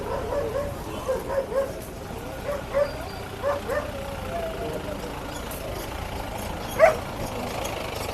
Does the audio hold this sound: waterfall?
no